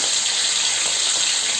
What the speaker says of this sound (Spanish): se sofríe el lomo y la longaniza y se aparta